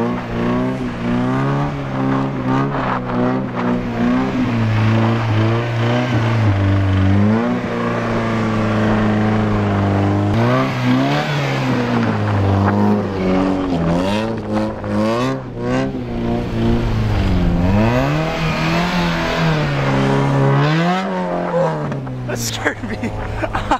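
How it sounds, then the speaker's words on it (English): A car drifts on fresh snow, its engine revving loudly and repeatedly, rising and falling as it slides. The sound stays close and strong throughout, with brief voices mixed in. "that's why we're out here drifting again"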